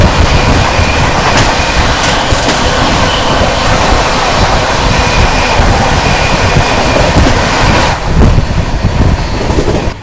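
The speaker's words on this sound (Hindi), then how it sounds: "सामने से आ रही है आनंद विहार टर्मिनल रीवा की ओर जाने वाली रीवा सुपरफास्ट एक्सप्रेस" The Rewa Superfast Express bound for Rewa from Anand Vihar Terminal passing at close range on Indian railway tracks: a loud, continuous roar of wheels and rattling coaches, filling the whole stretch without a break.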